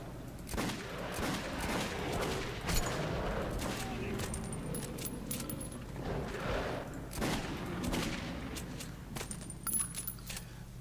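Gunfire in the Metro 2033 Redux video game comes as scattered bursts and single cracks over a busy, cluttered game soundscape at moderate level.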